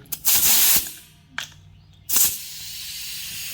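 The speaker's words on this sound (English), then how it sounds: "we'll take our compressed air and blow it off real good" Compressed air blasts over lawnmower parts during a Briggs & Stratton mower repair: a long loud hissing burst, a short puff, then a third blast that trails into a steady softer hiss.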